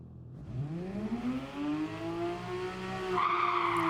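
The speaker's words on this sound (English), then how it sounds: "let's test out the Porsche on the Autodrome Maggiore and see what time it does" Porsche in a racing video game launching on the Autodrome Maggiore track, engine rising steadily in pitch through the gears with a harsh, loud rasp, no voices over it.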